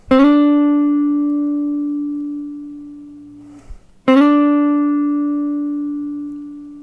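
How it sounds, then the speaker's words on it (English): Two plucked electric guitar notes, each ringing out clearly and decaying slowly, with a slide up into the note, a short muted scrape between them, loud and alone. "So you take the same note, you can slide up to it."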